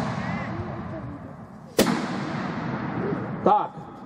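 Cannon shots at a historical reenactment of the battle of Trocnov: two sharp booms about two seconds apart, the first louder, each with a short rolling tail, heard through crowd noise and commentary.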